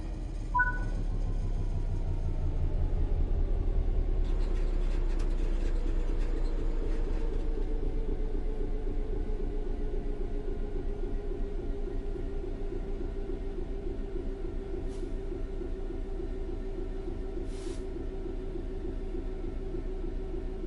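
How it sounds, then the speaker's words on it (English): A video game train rolls steadily along the rails on level ground with a low continuous rumble and rhythmic clatter, a rising tone slowly settling as it coasts on. "The train will then coast on level ground, and the train will only slow down very gradually."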